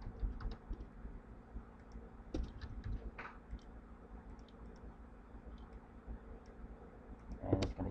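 Keyboard typing at a computer while entering a temporary variable in Siemens TIA Portal programming software, heard as soft, irregular clicks and taps at low level against a steady background hiss.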